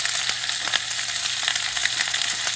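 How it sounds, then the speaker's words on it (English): Half-inch-thick pork chops sizzling in a hot pan, a steady bright crackle of frying fat with scattered pops, close and moderately loud, with no talking. "these are about half an inch cut, so I'm just gonna toss it in there"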